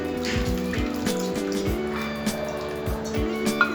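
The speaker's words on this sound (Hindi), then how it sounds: "अभी इसमें थोड़ा सा पानी डालेंगे" Water poured into chilled spiced yogurt in a bowl, a soft continuous liquid trickle heard close up under steady background music.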